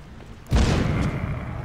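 A single heavy grenade explosion in the video game The Walking Zombie 2 bursts out and rumbles on, loud and close, with no voices over it.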